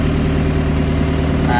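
A John Deere 2140 tractor engine runs with a steady, loud low-pitched diesel drone, rising slightly as it is revved before reversing, with a voice talking over it.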